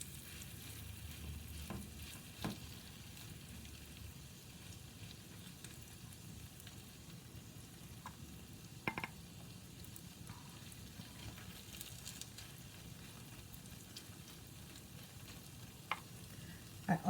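Pod bean pancake batter frying in hot oil in a warm pan, a quiet, steady crackling sizzle with occasional small pops, close up and with no voices.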